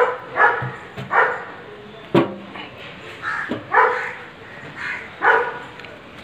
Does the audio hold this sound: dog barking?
yes